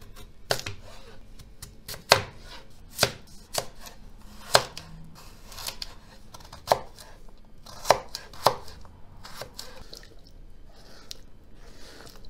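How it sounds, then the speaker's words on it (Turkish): Sharp knife strikes on a cutting board chop potatoes and carrots into cubes in irregular bursts, each chop a crisp, close thud with quiet pauses between. "Patatesi, havuçlarımızı da doğradık."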